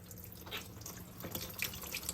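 Coolant drains from a Honda Prelude radiator during a radiator install, a faint trickling and dripping of liquid heard close and quiet, with no talk.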